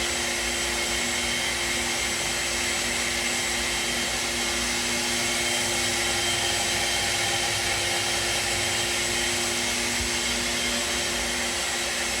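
Steady whooshing fan roar of a Proton coffee roaster with beans circulating inside, a constant airflow hiss with a low hum underneath, running evenly throughout with no talk.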